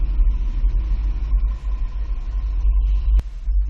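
A 2022 Mazda CX-5 with a Swagman XTC2 tilt bike rack driving through a slalom on a test course, a low steady engine rumble heard close from inside the car, ending in a sharp knock.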